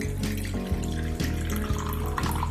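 Water runs from a tap or jug into a container while making bread dough in a kitchen, a steady loud flowing stream with rhythmic gurgling pulses repeating about twice a second.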